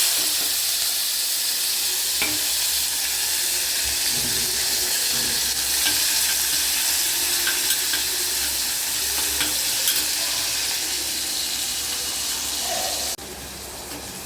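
Spices tempering in hot oil for a two-person biryani, a steady loud sizzle with stirring scrapes running throughout and a brief drop in level near the end.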